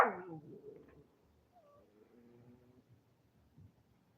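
A small female dog whimpering and yipping indoors, a sharp bark-like burst at the start followed by thin, wavering whines that trail off quietly.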